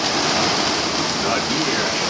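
Steady rain falling in Sun City, Arizona after the wind has died down, a dense continuous hiss close by with people talking nearby.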